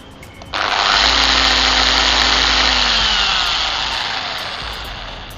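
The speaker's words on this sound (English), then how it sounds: "So this is a dual action machine." A dual action car polishing machine starts up and runs steadily, giving a loud continuous whirring hum that holds for several seconds and then eases off slightly toward the end.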